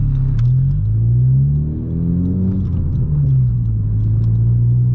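A 2018 Honda Civic Si fitted with a PRL big turbo kit and Garrett GTX 2860R turbo drives in third gear, its engine droning steadily and rising and falling in pitch, close inside the cabin with a low road rumble.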